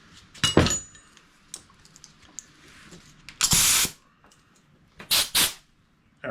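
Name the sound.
air compressor blowing out a part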